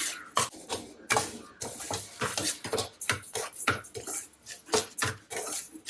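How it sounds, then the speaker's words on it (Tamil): Rice is dry-roasted in a pan while a utensil stirs and scrapes it, making constant close rasping and clinking strokes in a quick, uneven rhythm. "அரிசியை நல்லா வறுத்து எடுத்துக்குவோம்."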